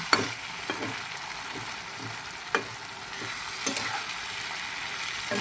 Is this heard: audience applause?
no